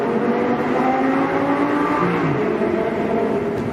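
A naturally aspirated V10 supercar engine roars loud and steady throughout, a dense continuous drone with a slight shift in pitch partway through, and no voices over it.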